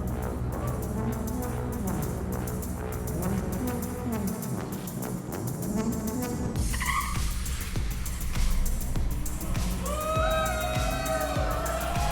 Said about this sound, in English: see how does the Cybertruck perform against a Porsche 911